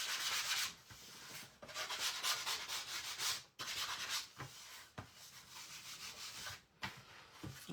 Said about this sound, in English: And this is 120 sandpaper.